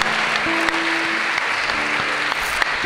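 A church congregation applauding steadily, a dense wash of clapping from many hands throughout, with faint background tones beneath.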